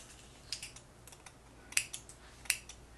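Scissors snip away the lace along the hairline of a 13x4 HD lace front yaki straight glueless wig, a few sharp, crisp close-up cuts spaced irregularly over a quiet background.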